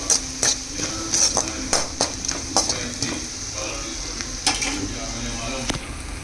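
Spices and ground coriander fry in a pan for palak paneer, a steady sizzle broken by repeated sharp clinks and scrapes of a spoon against the pan.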